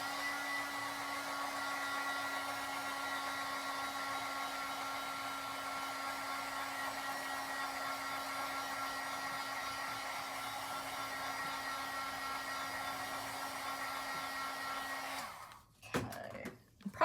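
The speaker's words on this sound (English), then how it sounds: "I'm going to hit this with the heat tool real quickly" A heat tool blows steadily on a craft journal page, a continuous airy whir with a constant hum that runs alone for about fifteen seconds before cutting off abruptly.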